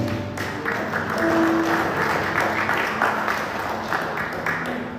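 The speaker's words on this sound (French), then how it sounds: "Acclamons la parole de Dieu." A church congregation applauds during a French-language service, steady clapping filling the room for several seconds at moderate loudness.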